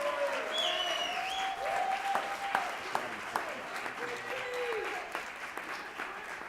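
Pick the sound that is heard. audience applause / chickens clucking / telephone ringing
audience applause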